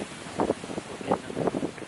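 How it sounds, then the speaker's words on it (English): Strong wind gusting straight into an outdoor microphone on an open pitch, buffeting in uneven bursts that swell and drop for a couple of seconds. "it's a really strong wind"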